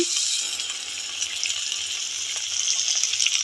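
Tomatoes hitting hot oil in a pan with bay leaf and white cumin, a bright continuous sizzle and crackle, close and moderately loud, with no talking.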